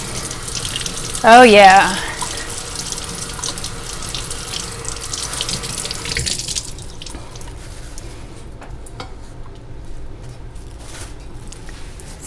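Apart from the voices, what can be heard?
tap water running while cleaning vintage Tupperware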